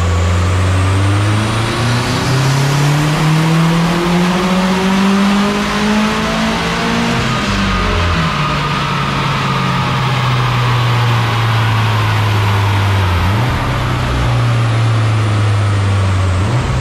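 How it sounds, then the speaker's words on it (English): A car engine running on E85 fuel roars through a full-throttle dyno pull, loud and close. Its pitch climbs steadily, drops sharply around a gear change, then rises again. "we go straight into doing a full throttle pull"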